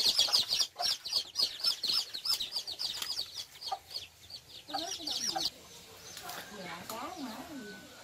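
A fighting rooster clucks in a quick series of sharp, close calls, then gives a few lower, drawn-out clucks, while people talk over it.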